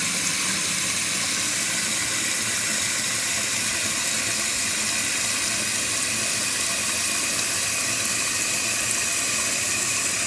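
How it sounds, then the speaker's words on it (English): A toilet tank refills after a flush, its repaired fill valve sending a steady, loud hiss of rushing water into the tank with no pauses. "It starts refilling right away."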